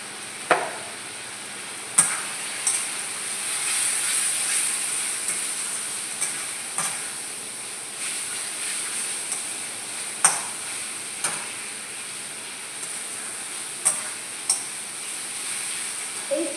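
Ghee sizzles steadily in a hot pan with homemade and shahi garam masala spices, a constant bright frying hiss punctuated by the sharp taps and scrapes of a spoon stirring, close and fairly loud, with no talking.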